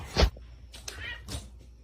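A cat gives a short meow and then a couple of softer, drawn-out cries, faint and close, with a little background noise between them.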